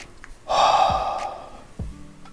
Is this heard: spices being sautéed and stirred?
no